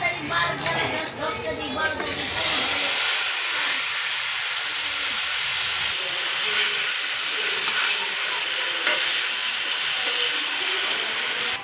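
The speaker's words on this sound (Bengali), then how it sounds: "এবার আমি ম্যারিনেট করা মাংসটা এর মধ্যে দিয়ে দেবো।" Marinated mutton goes into a hot pan with whole cardamom, cinnamon, cumin and dried chillies, and a sudden loud, steady hiss takes over after some talking, then carries on strongly to the end.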